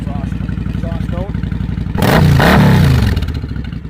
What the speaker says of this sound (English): There's the exhaust note.